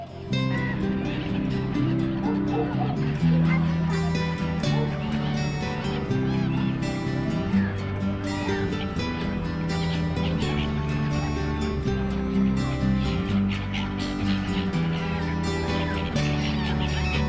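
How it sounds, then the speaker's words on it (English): Black-headed gulls that winter from Siberia at a lake in Kunming, China, a dense flock giving overlapping squawks and calls throughout, with some background bustle. "each winter there are thousands of seagulls coming here from all the way from Siberia to this lake"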